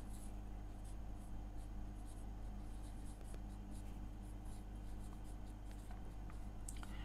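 A pen scratches out a heading for standard deviation in a finance lesson, with continuous close writing strokes over a steady low background hum.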